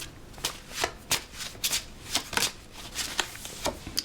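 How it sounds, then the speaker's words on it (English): Tarot cards shuffled by hand, close up: a series of crisp riffling bursts and soft slaps come in uneven rhythm, about a dozen quick flurries with brief pauses between, alone without talk. "let's do some shuffling though"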